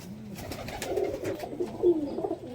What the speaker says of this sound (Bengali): দাদার এই একটা নর পায়রা